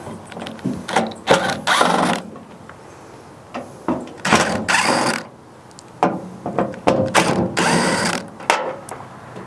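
A hand ratchet backs out Torx 40 bolts from the tailgate latch of a 1990s Chevy/GMC pickup, with quick bursts of clicking strokes, close and loud, separated by short pauses.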